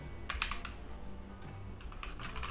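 Keystrokes on a Keychron K2 mechanical keyboard come in two short bursts of crisp clicks, a quick cluster early and another near the end. They ring out close and clear, with no voices.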